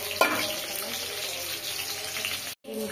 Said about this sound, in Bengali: ডিমগুলো ভাজছি।